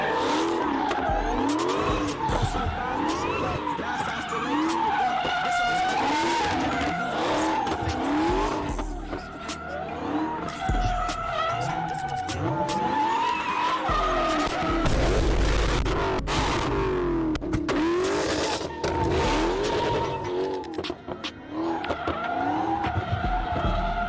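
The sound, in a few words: car sliding and skidding, running E85 fuel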